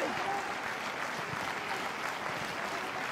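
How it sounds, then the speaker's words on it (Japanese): Home Mito Hollyhock supporters clap in rhythm in a football stadium during a J2 League match against Thespakusatsu Gunma, a dense steady wash of crowd clapping, with a commentator's voice faintly over it. "ホームの水戸サポーターからは手拍子です"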